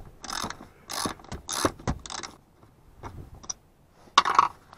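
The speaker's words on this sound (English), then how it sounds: "The first step is to remove this 10mm nut." A ratchet wrench works a 10mm nut loose inside a Subaru BRZ during a fuel pump install, short bursts of close mechanical clicking and metallic ratcheting with brief pauses and no talk.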